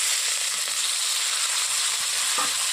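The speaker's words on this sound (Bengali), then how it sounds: "তেলটা গরম হয়ে গেছে, ওর মধ্যে আমি দিয়ে দিচ্ছি কাঁচা লঙ্কা কুচো আর দিয়ে দিচ্ছি পেঁয়াজ কুচো, টমেটো কুচো" Green chilies, chopped onion and tomato sizzle in hot oil in a pan, giving a steady, close, loud frying hiss throughout with a few faint stirring knocks and no voices.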